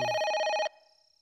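A telephone rings with a bright electronic trill, one sustained burst that cuts off abruptly and leaves a faint decaying tone, close and alone without talk.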